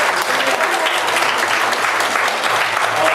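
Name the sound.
applause for the pastor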